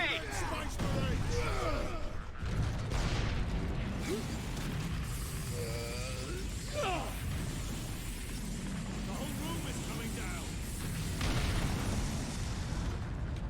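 An explosion in the Warhammer 40k: Space Marine video game, a loud burst with rumbling, crackling debris and mechanical clatter, as voices talk over it.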